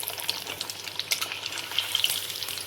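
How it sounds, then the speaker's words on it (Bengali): Fish pieces frying in hot oil in a pan, giving a soft, continuous sizzle with small crackles and pops, close by and fairly quiet, with no talking. "দুপিঠ একটু ভালো করে ভেজে নিতে হবে"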